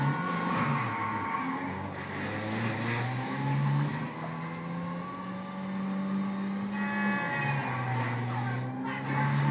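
A fast car races along in GTA 5, its engine note holding a steady rising and falling drone with gear-like pitch shifts, loud and close throughout, with music or game sounds layered underneath.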